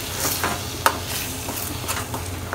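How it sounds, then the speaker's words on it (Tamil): Scrambled eggs with smashed onions are stirred in a pan over low heat, giving soft scraping and faint sizzling, with a few sharp utensil clinks against the pan. "நல்லா கலரி விட்டுக்கோங்க."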